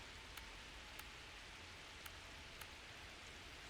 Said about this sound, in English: Our tents are starting to leak under the heavy rain